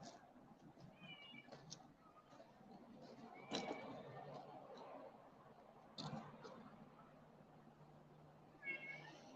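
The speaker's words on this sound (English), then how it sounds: "Some of these cats are definitely photogenic and want to show off for the camera." Cats at a cat shelter meow a few times, softly and at intervals, against quiet room noise with some sharp knocks and faint background talk.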